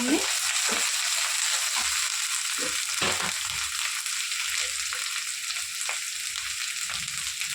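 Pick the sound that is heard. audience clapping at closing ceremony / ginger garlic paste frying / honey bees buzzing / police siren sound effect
ginger garlic paste frying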